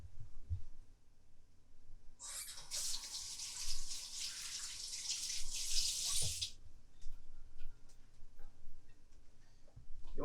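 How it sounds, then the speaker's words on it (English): Hands rinsed quickly under a running kitchen tap while making potato gnocchi, a steady hiss of water for about four seconds, bracketed by faint clicks and handling noises in an otherwise quiet room. "Wash my hands very quickly."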